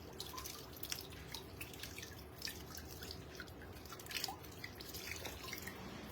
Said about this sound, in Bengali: দাঁড়ান আমার এখন হাতটা ধুয়ে নেই।